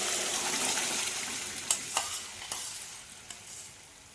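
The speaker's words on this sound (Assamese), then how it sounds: "এতিয়া ইয়াতে এই ঘিউখিনি গৰম হৈ আছে, ইয়াতে মই এই পেষ্টটো ঢালি দিলোঁ" Beetroot paste hits hot ghee in a pan and sizzles loudly, a dense frying hiss with a few sharp pops and stirring clicks that slowly eases as it settles.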